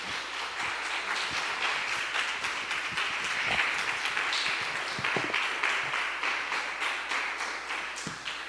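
Church congregation applauding during worship, a moderate, continuous wash of clapping heard from within the room, fairly soft with a few sharper claps standing out.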